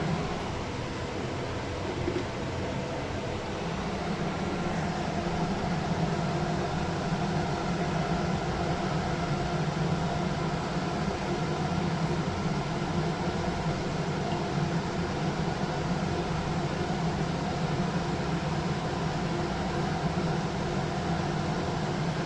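A kitchen chimney exhaust hood runs steadily as a gas stove heats a pan of oil for cooking pumpkin greens, giving a constant, even fan whoosh with a low hum that stays unbroken throughout.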